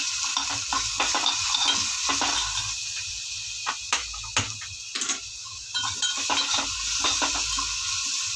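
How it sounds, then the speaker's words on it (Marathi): Ghee tempering with curry leaves, cumin, mustard seeds and garlic paste crackles and sizzles in a pan, broken by several sharp metal spoon clinks and stirring scrapes, close and steady throughout. "तूप घेतलं आहे मी 2-3 चमचे आणि त्याच्यामध्ये कढीपत्ता, जिरं, मोहरी आणि लसणाची पेस्ट टाकायची आहे वरतून."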